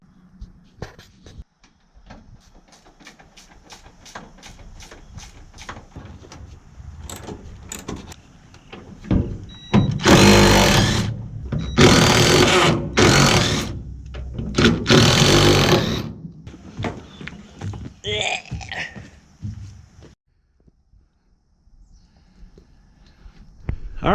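Seat bolts, 9/16 size, being removed from a classic Ford F100 truck: rapid rattling ratchet clicks, then several loud bursts of an air impact tool buzzing, followed by quieter clinks and handling noises.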